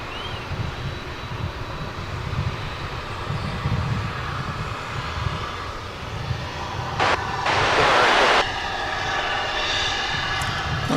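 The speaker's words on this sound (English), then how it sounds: "arrival on what is normally the takeoff runway here" A plane arriving at DFW airport, landing on runway 18 left, with a steady broad aircraft engine rumble lasting throughout and a brief louder hissing surge near the end, heard from outdoors at a distance.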